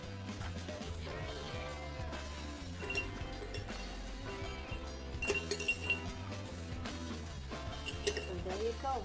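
Glass jars clink and tap repeatedly as brushes are set into a decorative glass jar, light scattered knocks over a continuous background of music or room sound.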